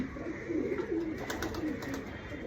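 A pigeon cooing close by, a low throaty coo repeated in a few rolling phrases over a faint background hiss.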